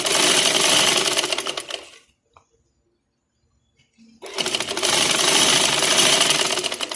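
A sewing machine stitching gum lace onto a neckline runs in two loud, steady buzzing bursts, close by, split by a pause of near silence with a faint click.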